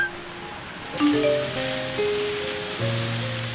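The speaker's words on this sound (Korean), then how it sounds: "장맛비가 내리는 7월의 어느 날 밤" Steady monsoon rain falling on a July night, a continuous dense hiss of drops spread evenly throughout, with faint tonal notes of background music over it.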